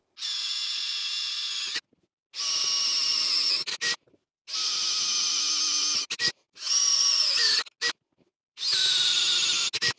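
A power drill driving screws into roof shingles, five loud, close whining bursts of a few seconds each, separated by short pauses, with faint clicks between runs.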